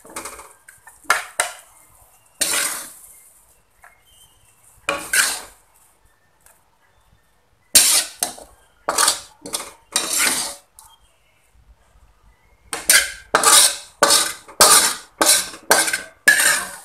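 Cooked spicy salted squid is scraped from a pan onto a plate in a sequence of sharp metallic clanks and clinks of a spatula against cookware, some isolated and others in quick rhythmic bursts, with quiet gaps between.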